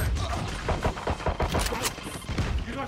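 Gunshots in the tactical shooter VALORANT: rapid bursts of sharp, close shots in irregular clusters, loud and punchy, alongside clicking weapon mechanisms and game effects.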